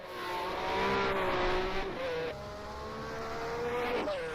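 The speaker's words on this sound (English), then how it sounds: "I'm listening to that engine note of the Ferrari" A Ferrari Formula 1 car from a 1967 racing video game at Monte Carlo holds a steady, buzzy engine note with small pitch shifts as it changes gear and revs. It sounds close and continuous, with no voices.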